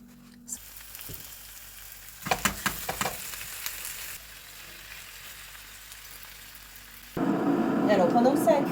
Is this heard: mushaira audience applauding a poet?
no